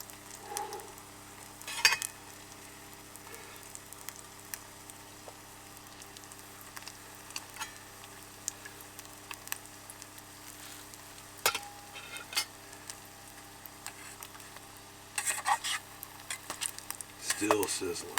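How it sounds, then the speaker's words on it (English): Spicy fish cakes fry in a pan inside a camper van, giving a soft, steady sizzle broken by scraping and clattering bursts from a utensil, loudest near the end, with occasional faint speech. "Still sizzling."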